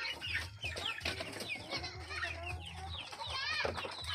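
A flock of native chickens on a Philippine farm clucks and calls nonstop at feeding time, many birds overlapping close by in a dense, steady chorus.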